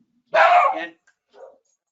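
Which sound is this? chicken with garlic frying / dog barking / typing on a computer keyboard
dog barking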